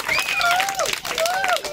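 Children and adults clapping at a school fancy dress competition, brisk scattered applause underneath an overlapping voice that speaks over the clapping.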